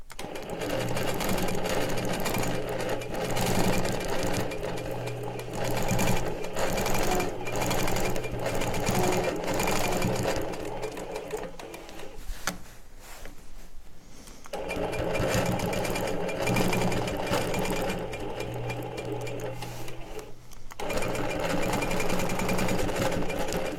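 An Innova longarm quilting machine stitches in the ditch, a fast steady mechanical whirr with a rhythmic needle chatter that runs continuously, briefly pauses midway and again near the end, then resumes.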